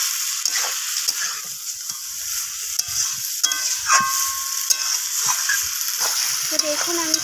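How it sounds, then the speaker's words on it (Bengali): Chicken pieces sizzling in a pan of masala while being stirred steadily, a continuous close fry with occasional spoon scrapes and clinks, no voices. "তো এবার আমি চিকেনটাকে মশলার সাথে খুব ভালোভাবে কষাতে থাকবো।"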